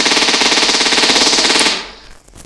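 Automatic machine gun firing nonstop in the Melon Playground game, a loud rapid rattle of shots that runs for about a second and a half, then cuts off abruptly into quiet.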